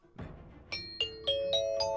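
Ding-dong chime sound effect on a Korean radio show, five bright bell tones struck one after another, each ringing on and stacking into a sustained chord, clear and alone with no talking.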